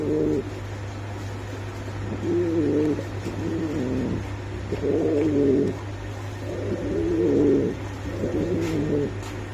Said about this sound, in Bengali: কি কবুতর রে ভাই